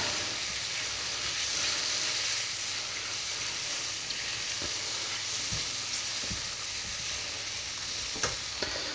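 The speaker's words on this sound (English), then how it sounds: "So give that a little stir." Beef stroganoff sauce with nutmeg bubbles and sizzles steadily in a pan while being stirred, a continuous close hiss with occasional faint scrapes and taps.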